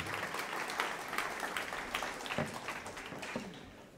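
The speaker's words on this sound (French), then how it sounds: "On peut les applaudir" An audience at a business networking event applauds, a moderate round of clapping that sounds somewhat distant and quiet, tapering slightly toward the end.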